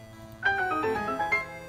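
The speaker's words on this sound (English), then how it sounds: "That is the sound of unlocking" A short, bright electronic chime rings out in a quick sparkling flourish, like a game unlock jingle, over a soft steady background hum.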